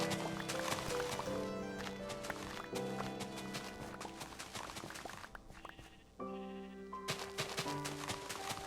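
Blocky video game sheep give repeated wavering bleats over layered in-game music and clip-clopping footsteps. The sound is fairly quiet and steady, with a brief lull near the end.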